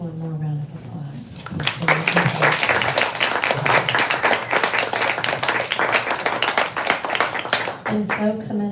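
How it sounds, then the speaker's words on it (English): A poetry reading audience breaks into a round of applause: dense, close clapping that rises and holds for several seconds, with someone speaking briefly before it and again as it fades. "Let's give one more round of applause."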